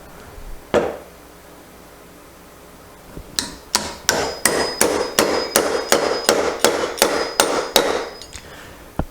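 A wooden wedge is hammered into a woodworking mortise and tenon joint: one stray knock, a pause, then about fourteen steady, evenly spaced ringing mallet strikes, close and fairly loud, with a faint high tone sustaining through the later blows.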